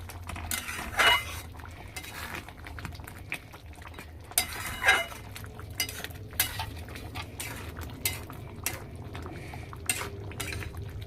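Butter chicken is stirred in a pan with a metal spoon, giving repeated clinks and scrapes against the pan over a low, steady simmer.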